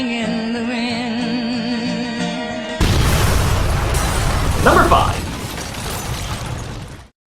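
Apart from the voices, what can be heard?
explosion sound effect in a film scene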